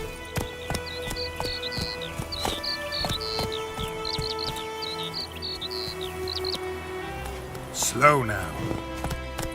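Roach, the horse in The Witcher 3, clip-clopping at a moderate pace under birdsong, with a voice speaking briefly and a louder effect near the end.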